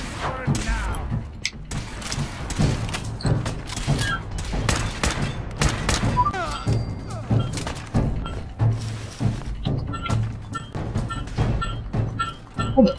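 Rapid gunfire from a high capacity combat rifle in Fallout 4, a run of close, punchy shots with thuds and mechanical clanks mixed in, fired in uneven bursts with brief pauses between them.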